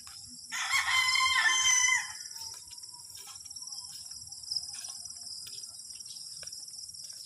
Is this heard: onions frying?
no